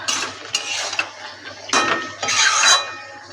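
Vegetables being stirred in a metal pan with a spatula and a lid set on top, giving a series of close clinks and scrapes of metal on metal, with a brighter clatter near the end.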